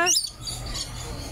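A brief, bright chirp from lorikeets at a bird sanctuary in the Aquarium of the Pacific, Long Beach, loud and close at the start, then fading into low background murmur.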